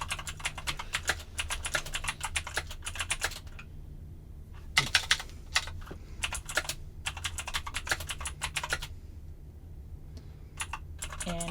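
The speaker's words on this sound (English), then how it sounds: "typing." Quick bursts of typing on a computer keyboard, with rapid clicking clusters broken by short pauses and a faint steady hum underneath.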